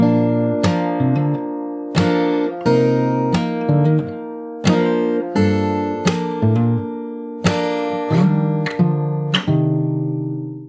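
Solo fingerstyle acoustic guitar plays the interlude of a song, close and clear, with a steady series of plucked chords that each ring out before the next strike.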